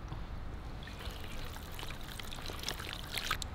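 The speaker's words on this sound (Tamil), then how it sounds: "100 ml எண்ணெய் விடுறேன்." Oil, about 100 ml, streams into parotta dough in a soft, steady trickling pour, close and fairly quiet, with a few brighter splashes near the end and no talking.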